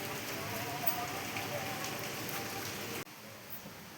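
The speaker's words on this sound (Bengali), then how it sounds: "তো ওইদিকে দেখো বৃষ্টি পড়ছে।" Heavy rain pours down steadily in a dense, close hiss with no voices, easing slightly after a sudden dip about three seconds in.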